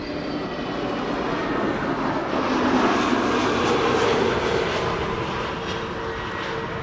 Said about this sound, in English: The KLM 747 is now lined up at 36 center